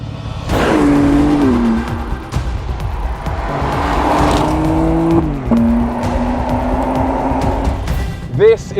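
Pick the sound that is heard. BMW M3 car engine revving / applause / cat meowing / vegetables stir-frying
BMW M3 car engine revving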